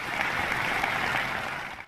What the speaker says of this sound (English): Thank you, Eugene, for the clap.